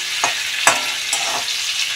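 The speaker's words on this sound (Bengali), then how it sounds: "তো মাছ দুটো ভাজা হোক" Prawns frying in hot oil in a pan, cooked without water: a steady soft sizzle broken by a few sharp crackles and spits over two seconds.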